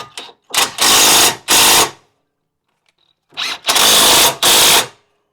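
Power tool driving and tightening the caliper bracket bolts during a front brake pad and rotor job on a Fiat: two pairs of loud, close whirring bursts separated by a pause of near silence.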